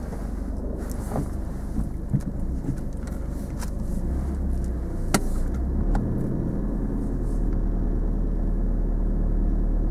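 Steady car engine and road rumble from inside a vehicle on a driving lesson, approaching a T-junction, with continuous low hum and some wind buffeting, no talk.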